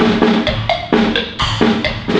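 A drum set playing the old 'digging coal' pattern, a brisk repeating rhythm of punchy low drum hits alternating with sharper cymbal or snare strokes, close and loud with nobody talking.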